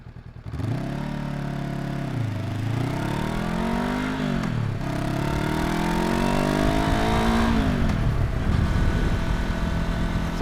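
A Honda NX500 motorcycle engine pulls through a test ride, its loud, steady drone rising and falling in pitch across several gear changes, close and continuous with no talking.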